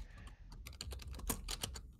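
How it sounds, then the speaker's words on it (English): Fingers tap rapidly on a computer keyboard, a quick irregular patter of faint, close clicks with no talking. "What are you typing?"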